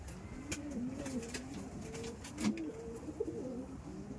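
Soft, overlapping cooing from red Madrasi pigeons in a loft, continuous and nearby, with light scratches and taps mixed in and no voices.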